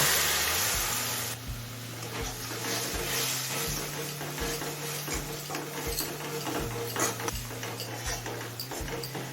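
Spice paste for a chhana tarka fries on a high flame, with regular scraping strokes of a spoon in the pan over a faint, continuous sizzle.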